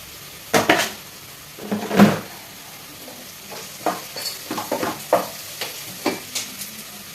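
Cauliflower fries in a pan, with a soft sizzle under repeated scraping stirs of a utensil against the pan, coming in irregular bursts close by.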